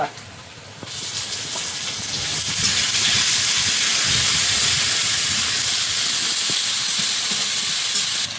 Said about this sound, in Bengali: অল্প একটু পেঁয়াজ একটু আদা রসুন